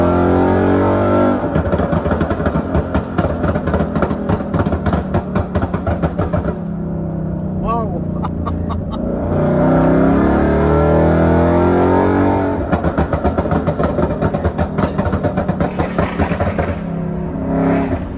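A Ford Mustang engine is pushed on throttle, loud and close, rising and falling through repeated revving bursts with a throbbing exhaust note and brief easing between pulls.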